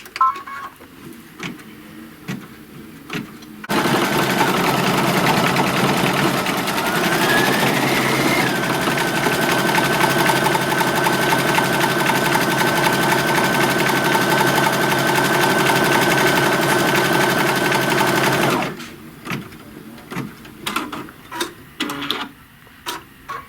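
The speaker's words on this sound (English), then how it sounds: "we'll put it back on the machine, and it's going to stitch a tack down for that" A sewing machine stitches a tack down in one sustained run of rapid, even mechanical whirring lasting about fifteen seconds, framed by quieter handling clicks and taps before and after.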